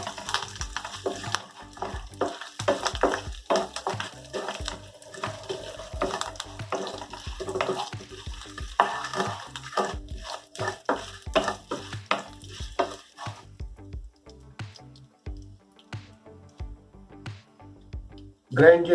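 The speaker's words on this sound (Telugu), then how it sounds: "ఆవాలు వేసుకొని కరివేపాకు, ఈ విధంగా దోరగా వేగిన తర్వాత" Mustard seeds and curry leaves frying in a pan, giving a steady crackling sizzle with scraping stirs, under a person talking throughout, the sputtering thinning out toward the end.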